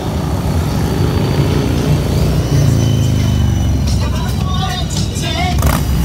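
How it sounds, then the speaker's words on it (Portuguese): A motorcycle engine rumbles nearby, loud and continuous, its pitch rising partway through, with people talking over it. "Se liga no som da moto."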